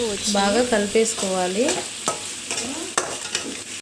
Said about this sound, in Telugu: ఇందులో పచ్చిమిర్చి కూడా వేసుకోవాలి. వేసి బాగా కలిపేసుకోవాలి